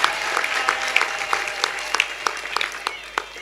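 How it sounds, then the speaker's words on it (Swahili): A church congregation breaks into rhythmic applause, steady clapping from a crowd in a large room, fairly close and continuous. "Hebu tumpe Mungu makofi kwa kanisa mama la Marekani."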